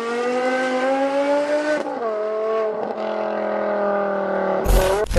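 A BMW M5 with a 500-horsepower engine accelerates hard, its loud, rising engine note climbing steadily and shifting gears twice before a sharp burst of noise at the end, with no talk over it.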